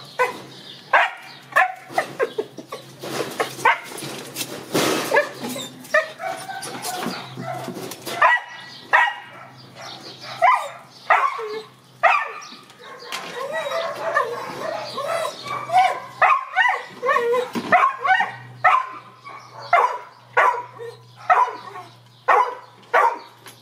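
Hunting dogs bark and yelp during a hare hunt outdoors, loud and close, in frantic repeated bursts with whimpers in between, and a bird calls faintly in the background.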